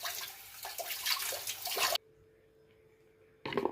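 Water splashes and runs loudly as fresh herbs such as tulsi, mint and coriander are rinsed, then cuts to near silence before the splashing briefly returns.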